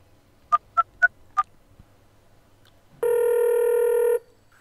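A phone call with a few short tones, then a single sustained telephone ring tone, loud and close, lasting about a second and heard alone.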